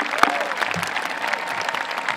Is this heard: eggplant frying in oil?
no